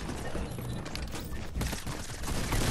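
Sustained SMG fire in Fortnite at Tilted Towers, a dense, continuous rattle of rapid shots that stays loud and busy throughout with no clear breaks.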